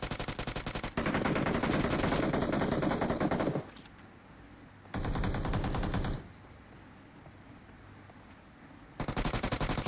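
Automatic gunfire in PUBG Mobile: three loud, close bursts of rapid shots, the longest about two and a half seconds, separated by quieter gaps of game ambience.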